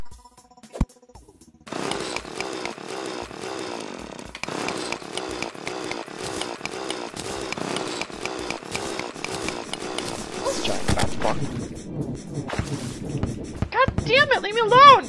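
A mining drill in the Terraria video game gives a loud, steady mechanical buzzing whir with a fast pulsing rhythm. It runs continuously for most of the stretch, then turns rougher and more broken near the end.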